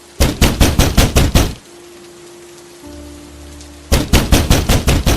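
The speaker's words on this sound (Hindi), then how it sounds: "अचानक फिर किसी ने दरवाजा जोर से खटखटा दिया" Rapid, heavy pounding on a door at night comes in two loud bursts of about eight blows each, separated by steady rainfall hissing in the background.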